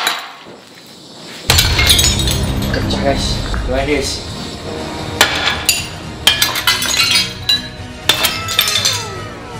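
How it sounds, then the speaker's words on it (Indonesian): Very thick glass, billed as the strongest glass in the world, struck repeatedly until it breaks, with sharp loud impacts, clinks and shattering bursts; someone talks excitedly throughout. "kita akan menghancurkan kaca terkuat di muka bumi"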